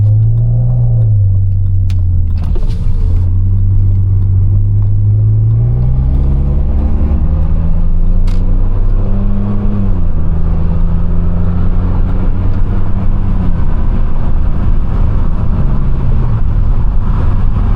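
Straight-piped, tuned BMW E39 exhaust while driving, a loud deep drone that rises and falls through gear changes and throttle, close and steady with no talk.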